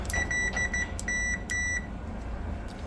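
A multimeter set to continuity beeps while its probes are held on the capacitor fuses of a power factor unit, giving several short, high, steady tones in a broken rhythm over background hum.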